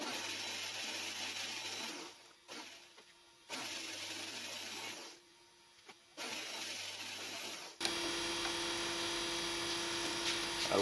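Homemade milling machine cutting a 5 mm deep, 45 mm round recess in a lost-foam cast part, a steady machine hum that stops and restarts in several runs before a louder continuous whir.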